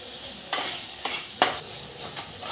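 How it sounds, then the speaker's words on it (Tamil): Chopped tomato, salted, frying in a pan for a mushroom gravy: a steady soft sizzle broken by five or so scraping stirs, close and moderately loud, with no talk. "இப்போ தக்காளி நல்லா வணங்கிடுச்சு."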